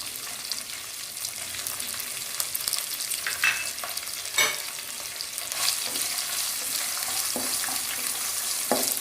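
Curry leaves and green chilies sizzle in hot oil in a pan for broken wheat upma, a loud, steady crackling hiss broken by occasional stirring scrapes, close and with no speech.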